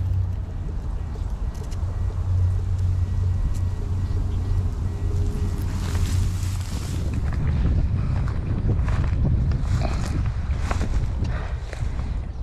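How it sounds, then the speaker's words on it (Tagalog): Strong steady wind buffets the microphone with a deep roaring rumble, continuous and loud throughout, with no voices. "Mahangin lang."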